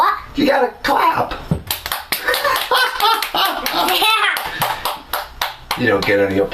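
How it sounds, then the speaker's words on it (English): A child clapping hands, sharp irregular claps and taps scattered among lively talk from a child and an adult close to the microphone. "You gotta clap."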